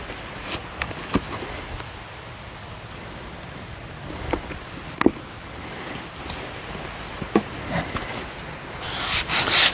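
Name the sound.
scrubbing concrete sidewalk cracks with a brush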